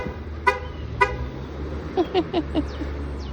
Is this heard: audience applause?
no